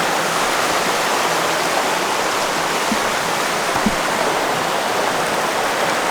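The small Gavon Piccol waterfall on the Maè stream roars as a loud, steady, unbroken rush of falling water, close by and alone.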